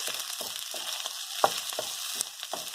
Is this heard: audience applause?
no